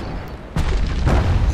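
A hand grenade blast in the video game Bastion, a single booming thump with a broad rumbling tail, followed by a second, similar burst about half a second later, fairly loud with no talk over it.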